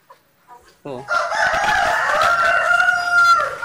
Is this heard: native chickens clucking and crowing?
yes